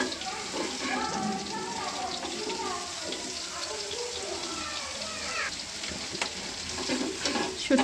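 Dried fish (shutki) with raw onion frying in a pan, a dense continuous sizzle with stirring scrapes running throughout, while a voice talks over it.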